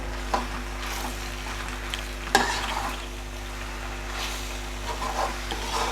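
Macaroni pasta with masala slow-cooking in a pan on a simmer, a soft steady sizzle with occasional stirring scrapes and clinks, faint and close.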